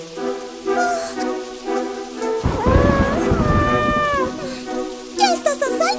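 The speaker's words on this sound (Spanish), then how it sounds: "¡Qué tormenta tan fea!" Cartoon thunderstorm with steady rain on surfaces and rumbling thunder swelling loudly mid-clip, followed by a sharp crack near the end; animated character vocal sounds mix in briefly.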